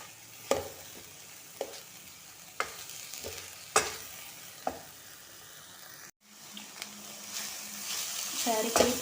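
Wild taklā greens are stirred with fresh grated coconut in a pan, a soft sizzle punctuated by repeated sharp scraping knocks of a spoon, then a brief pause and a fuller, denser sizzle.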